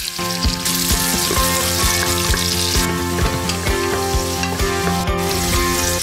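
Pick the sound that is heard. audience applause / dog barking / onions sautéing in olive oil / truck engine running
onions sautéing in olive oil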